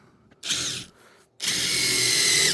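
A power drill bores into a steel sledgehammer head in two close, loud bursts of high grinding whine, a short one and then a longer steady run after a brief pause.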